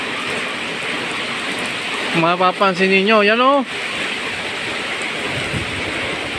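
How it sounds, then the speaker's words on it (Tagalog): Heavy rain pouring steadily outdoors in a flooding area beside a swollen river, a loud constant hiss throughout, with someone talking briefly in the middle. "Ang lakas ng ulan."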